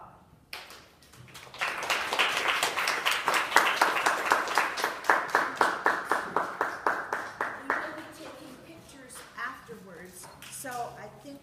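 Parents applaud after children take a bow at a Suzuki piano recital play-in, a steady burst of clapping from a room of adults that swells, holds for several seconds, then thins out into scattered claps and murmuring.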